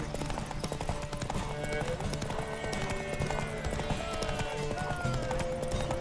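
Steady rhythmic hoofbeats of a galloping horse in The Witcher 3: Wild Hunt during a horse race, loud and continuous, over a busy layered game soundtrack with faint background tones.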